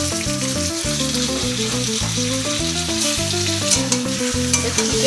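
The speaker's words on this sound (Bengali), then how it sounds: "চিকেনটা দিয়ে ভালো করে নাড়লাম। চিকেনটা একটু ভাজা ভাজা করে নেব।" 500 grams of chicken frying in a wok after onions, a dense close sizzle with repeated scraping stirs of a spatula in a steady rhythm, no voices.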